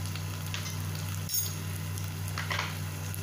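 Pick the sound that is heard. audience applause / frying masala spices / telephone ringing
frying masala spices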